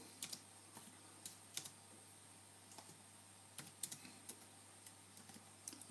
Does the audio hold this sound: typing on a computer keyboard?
yes